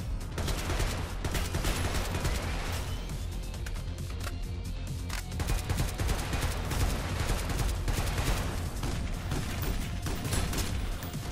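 Rapid gunfire from the PC video game SYNTHETIK in co-op play, a dense, loud, continuous barrage of overlapping shots with no pauses.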